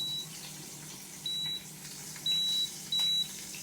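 Power XL grill control panel giving a few short electronic beeps while its settings are pressed, close and clear, spaced irregularly over faint room noise.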